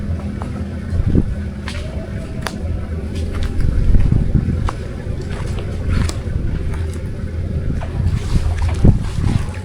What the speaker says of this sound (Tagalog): sa lakas ng hangin yan.